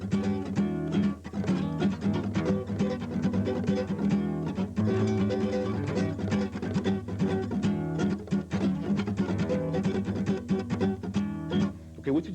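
Percussive funk rhythm guitar in E over a dominant progression, with choppy, muted strumming in a steady, busy groove, played close and loud throughout.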